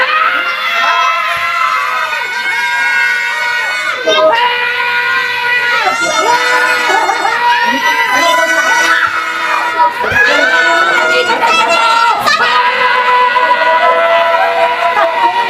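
A crowd of children shouting, screaming and cheering all at once, loud and close, with excited voices overlapping continuously throughout.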